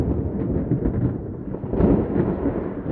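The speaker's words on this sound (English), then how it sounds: "It's just thunder" Thunder as a sound effect in a stormy audio drama: a continuous deep rolling rumble, loud and close, swelling slightly toward the end with no voices.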